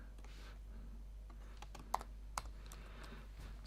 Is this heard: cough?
no